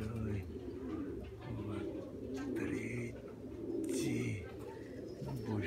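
Pigeons coo in low, repeated calls beneath someone talking outdoors, with occasional higher bird chirps around them.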